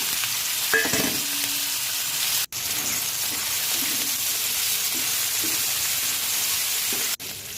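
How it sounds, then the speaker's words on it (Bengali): A loud, continuous sizzle of prawns frying in hot oil in a wok, dense crackling hiss throughout with a couple of brief cutoffs and faint utensil clinks. "তেল আমি দিয়ে দিয়েছি কড়াইয়ে, গরম হয়ে গেছে। আমি চিংড়ি মাছটা আমি ভেজে নেব"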